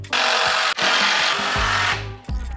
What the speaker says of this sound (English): Start by gluing and screwing your frame pieces together.